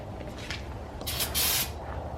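Brake cleaner sprays from an aerosol can during work on a Nissan S13 subframe: a couple of faint short puffs, then one louder hissing burst lasting under a second, close by with no talk.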